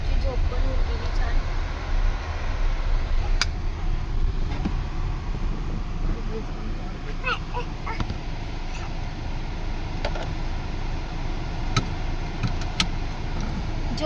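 Steady low rumble of a Tata Nexon car driving off after a service, a continuous near engine and road noise with faint clicks and light rattles over the top.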